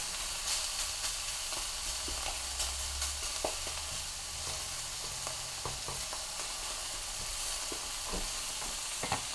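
A steak sizzling in a hot skillet with no oil, a continuous hissing fry with scattered pops and crackles, moderately close, no voices.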